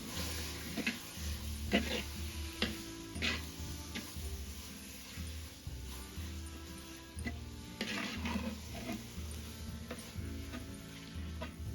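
A spoon stirs a chicken curry with a little yogurt in a clay pot. The stirring comes as irregular soft scrapes and knocks over a faint low sizzle, and the sound stays quiet throughout.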